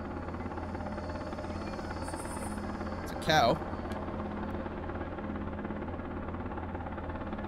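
A helicopter in the Australian survival video game Straya flies with a steady, droning rotor and engine hum through the whole stretch, with a brief spoken remark and a short sharp sound over it partway through.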